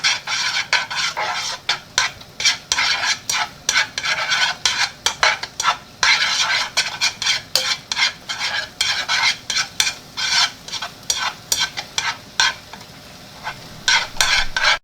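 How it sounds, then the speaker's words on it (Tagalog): Eggs being stirred with a chopstick in a pan for a breakfast burrito, with a steady train of close, rapid scraping and clicking strokes against the cookware over a faint sizzle, no voices. "Hahaluin po natin. Gagamit po tayo ng stick or chopstick."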